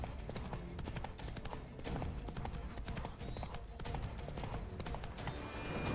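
Hooves of a horse galloping in The Witcher 3 pound out a fast, steady clip-clop rhythm throughout, layered over busy game sound effects and background music.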